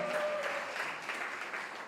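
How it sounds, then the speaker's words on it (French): Audience applause at an award ceremony is heard, a soft, steady patter of many hands clapping at a distance, with a faint tone running beneath it early on. "Est-ce qu'on va applaudir pour le savoir-faire de Tegra?"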